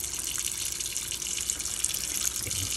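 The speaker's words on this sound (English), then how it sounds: "Fill up the pots about right here with water." Water runs steadily from a tap into a cooking pot being filled for boiling a hog head, a close, continuous gushing splash with no talking.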